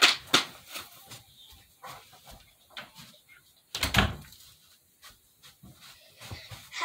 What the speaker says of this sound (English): Had to close my door real quick.